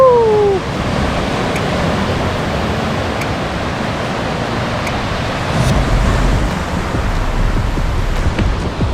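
Ocean surf rolls against the rock formations near the lighthouse at Bolinao, Pangasinan, a steady broadband wash of waves with wind noise, heard close and continuous without speech.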